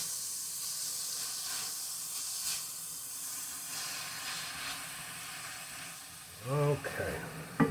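Ground beef frying in a pan with a tablespoon of cumin, a steady soft sizzle and hiss throughout, faint and close, with a brief clatter near the end.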